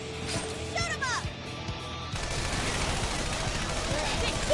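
Gunfire in the action game Persona 5 Strikers during a prison boss fight, a rapid burst of shots and impacts among whooshing effects, then a steady, dense roar of combat noise, with character voices calling out over it.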